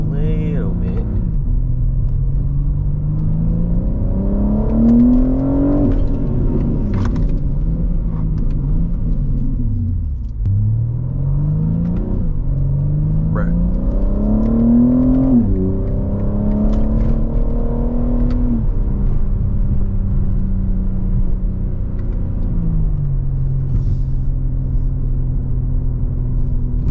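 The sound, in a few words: BMW M3 with new exhaust accelerating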